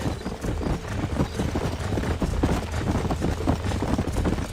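Horse hooves in the video game Red Dead Redemption clip-clopping steadily at a trot, dense and continuous, with a rumbling low background and no voices.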